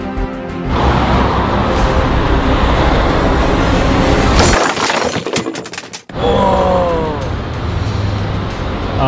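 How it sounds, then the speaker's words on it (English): A tram crashes into a parked car in Serbia: a heavy metallic crash with shattering tail-light glass cuts through rumbling vehicle noise, followed by a sudden drop and resumed engine and rail sounds. "So Tram just come and smashed our back lights"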